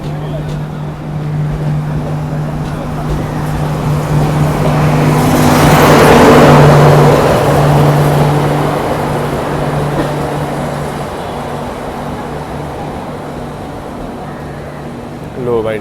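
The Mandovi Express, a passenger train from Mumbai to Goa, departs a platform with a steady low engine hum and rumble that swells and then slowly eases, while a voice talks over it.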